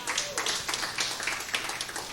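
Applause breaks out from an audience at a religious lecture on the prophets, with a short burst of clapping lasting about two seconds, fairly close and lively, mixed with some voices.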